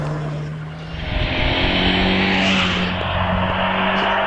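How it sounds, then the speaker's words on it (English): Mazda MX-5 racing up the Prescott hillclimb course, its engine revving hard and rising in pitch as it accelerates past, loud and close, with a brief tyre scrub mixed in. "Phil Oliver making his way up the hill in the Mazda MX-5 as Steve Thomas gets underway in the TVR Vixen"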